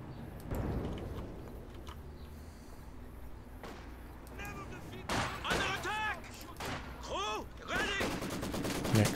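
Maxim machine gun fire rattles in a Company of Heroes 2 match, distant bursts and gunshots mixing with whistling artillery and battle noise while a commentator talks over it.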